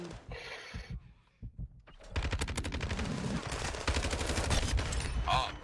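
Video game gunfire erupts in rapid bursts of close automatic shots, preceded by a few isolated shots, running dense and loud for several seconds.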